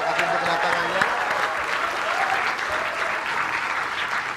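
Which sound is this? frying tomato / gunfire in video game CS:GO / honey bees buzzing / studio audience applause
studio audience applause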